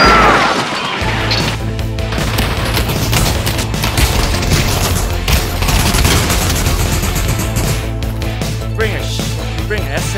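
Gunfire in the VR shooter Pavlov, dense crashing shots and bursts over a low hum, loud and close, with players shouting over it.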